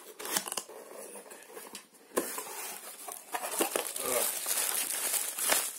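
Plastic bag crinkling and rustling while a cordless 25-volt drill driver shipped from China is unpacked from its box, close and continuous with sharp crackles, under occasional speech.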